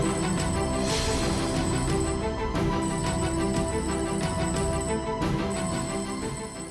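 A telephone bell rings steadily and loudly in an indoor domestic setting, its tone continuous across the span with two brief breaks between rings, no voices over it.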